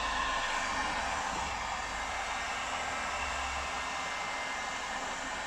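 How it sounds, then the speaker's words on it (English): A heat gun blows steadily, a constant close airy roar, while warming the headlight of a Land Rover Discovery 2 Td5 to soften the mastic sealant. "Some people do this in an oven, but I think it's easier with a heat gun."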